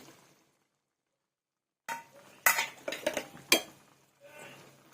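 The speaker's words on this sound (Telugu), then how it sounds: "ఇప్పుడు అన్ని మిక్స్ చేసుకున్నామండి" Chicken kurma with yogurt, chilli powder and coriander powder being stirred in a pot: after a silent gap, a spoon scrapes and clinks against the metal in a few sharp bursts, fairly close, with no talk.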